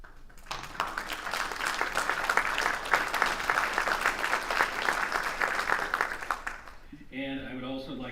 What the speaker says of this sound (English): If you'll please stand for a round of applause for being here.